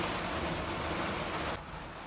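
Heavy rain pours steadily on a hunting shooting house during a Tennessee thunderstorm, a dense, loud broadband wash that drops slightly in level near the end.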